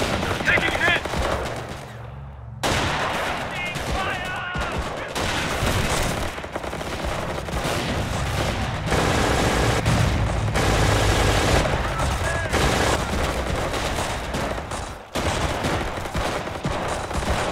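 Dense battlefield gunfire in Company of Heroes with an immersion mod set in 1944, sustained machine-gun bursts and rifle shots with occasional heavier booms, loud and nearly continuous with brief pauses.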